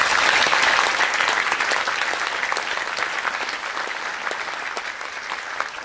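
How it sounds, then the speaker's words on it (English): An audience at a university hall of fame event gives a sustained round of applause for the organizer and her staff, a dense, even patter of many hands that slowly softens. "I would like everybody to give Casey and her staff a round of applause"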